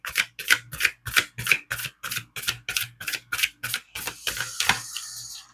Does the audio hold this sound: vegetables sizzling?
no